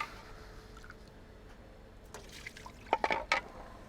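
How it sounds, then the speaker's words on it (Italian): Cold water poured into a pot holding lemon in a kitchen, quiet trickling that builds into a few louder splashing bursts near the end, heard alone. "Riaggiungo l'acqua fredda adesso, per la seconda volta."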